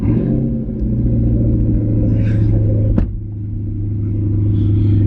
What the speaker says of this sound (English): We'll start off by starting the car.